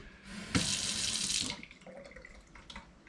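A tap on an off-grid rainwater system opens and water gushes out in a loud, steady hiss for about a second, then shuts off, leaving a quieter trickle and faint clinks.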